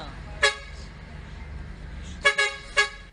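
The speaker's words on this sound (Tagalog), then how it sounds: "Ilang beses nang bumusina ang bus." A bus horn honks in sharp toots on a city busway, one single blast followed by a quick double and another short blast, loud over traffic rumble.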